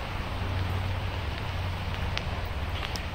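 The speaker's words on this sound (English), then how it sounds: "Here we have a rainstorm. And the ceramic coated car just doesn't care." Steady rain falls on a ceramic-coated car, giving a dense, even hiss with a low rumble and a few sharper drips standing out.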